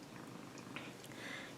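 A small cat purrs steadily and close by, a soft continuous rumble lasting the whole moment with no talking over it.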